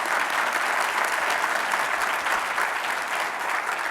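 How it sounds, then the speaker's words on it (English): A large audience applauds at a public forum on racial reckoning in America, producing a dense, steady wash of clapping that holds evenly throughout, moderately distant and without clear individual claps. "Please give Imam Zaid Shakur a round of applause."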